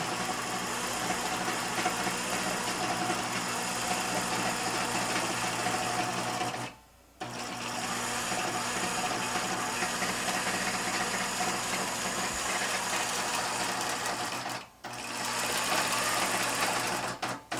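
A computerized quilting machine stitches a quilt block, giving a steady, loud, continuous whirring hum that stops briefly twice, near 7 and 15 seconds.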